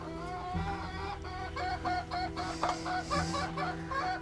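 Backyard hens at an off-grid homestead cluck in a steady series of short, throaty calls and murmurs, fairly close and repeating throughout with no talk over them.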